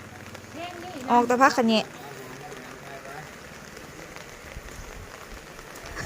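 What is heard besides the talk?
rain falling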